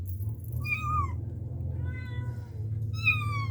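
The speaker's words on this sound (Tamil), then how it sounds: "வேற அவங்க அம்மா பூனை வந்துருச்சு" A cat meows repeatedly while being fed biscuits: three drawn-out, rising-and-falling cries spaced over a few seconds, fairly close, over a steady low background hum.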